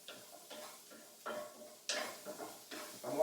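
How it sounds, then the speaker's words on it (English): Garlic frying in a pan for a leftover biryani, with soft sizzling and a run of light scrapes and clinks from stirring, growing gradually louder and closer toward the end. "Just going to fry that off."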